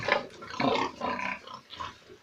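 Several pigs grunt and snort close by, a rough, overlapping series of low grunts with short gaps between them.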